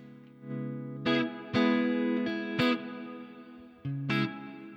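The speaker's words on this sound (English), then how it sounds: "Take some of that reverb out of there, a little splashy." An electric guitar on a clean channel plays sustained chords through an XSonic ULooper, with a wet, washy reverb tail ringing between strums.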